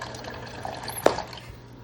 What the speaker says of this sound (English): I'm going to add a little bit of water just to make a small enough bowl of soup.